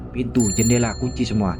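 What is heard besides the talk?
bell ringing outside, horror story sound effect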